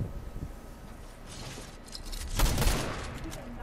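Gunfire bursts from a Fortnite Zero Build match, a few scattered shots early and a louder, denser volley near the end, heard under a busy game soundscape.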